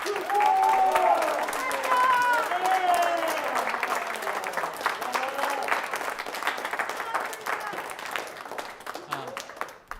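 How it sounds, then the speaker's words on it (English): Audience applause at a school concert band Christmas concert, a steady wash of clapping across the room that starts loud and slowly thins, with voices and cheering mixed in. "If we can give her a round of applause as well."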